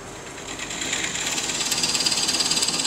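A drill whirs steadily into spalted pecan wood, its pitch rising slightly as it bites in, with a rapid pulsing grind toward the end. No talking.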